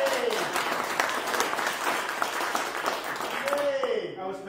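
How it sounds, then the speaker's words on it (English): Church congregation applauding during a Sunday Lent service, a sustained patter of clapping from a small room crowd, with a voice calling out over it at the start and end. "Let's applaud. Come on."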